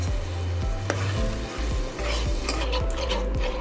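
A sticky batter of rice flour and jaggery for Thiruvathirai kali is stirred in a hot pan, with a low sizzle under repeated scraping strokes of the spoon against the pan at a steady rhythm. Close up, with no talking.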